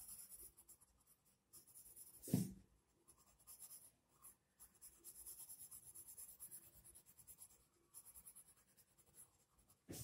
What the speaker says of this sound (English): Just make sure you are shading inside the outline.